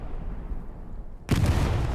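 A Hell Let Loose explosion, a sudden loud boom that cuts in midway after a low rumbling stretch and then holds as a broad roaring blast with rumbling debris fall.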